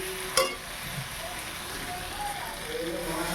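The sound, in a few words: water poured into a hot pan of fried chicken, sizzling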